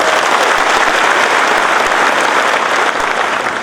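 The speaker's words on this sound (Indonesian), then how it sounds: "Aplaus untuk beliau." Dense, steady audience applause for the commander of the Indonesian National Armed Forces (TNI) during a working visit in East Kalimantan, a continuous wash of clapping filling the whole stretch without a break.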